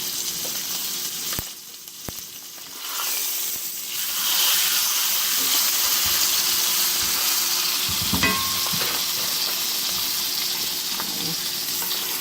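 T-bone steak frying in butter in a hot pan, a steady close sizzle and hiss that swells louder midway and keeps going with light clinks of utensils.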